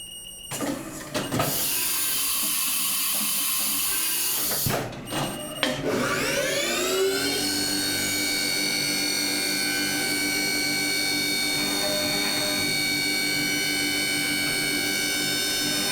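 A CNC machine milling with a 3/4 inch finishing end mill starts with brief clunks and a spindle whir, then settles into a loud, sustained high-pitched tonal whine that runs steadily to the end.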